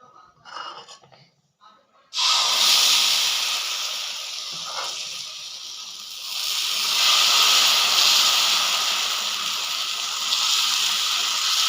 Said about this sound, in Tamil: நம்ம தோசை ஊற்றிக்கலாம்.